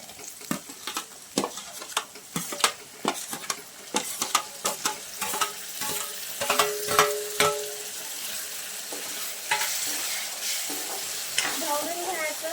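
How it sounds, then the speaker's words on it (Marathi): Chopped tomatoes are stirred into a cluster bean curry in a frying pan, giving repeated scraping strokes and clinks of the spoon over a steady sizzle. A short vocal sound rises near the end. "ढवळून घ्यायचं थोडंसं"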